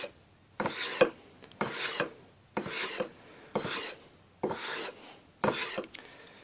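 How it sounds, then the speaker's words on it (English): A hand plane shaving wood along the grain while marking and processing a chamber, six evenly spaced rasping strokes, each about half a second, close and fairly quiet with short pauses between. "I'm planing along the grain and upwards slightly, just to get a clean cut of my plane."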